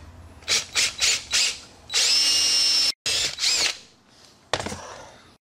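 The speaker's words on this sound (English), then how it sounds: "And I am drilling in at just a slight angle." A power drill whirs in several short bursts, then a longer steady run, followed by more brief pulses, drilling a hole at a slight angle in a John Deere mower deck spindle housing; close and loud with no talking.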